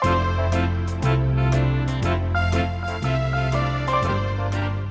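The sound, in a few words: swing music played at 120 bpm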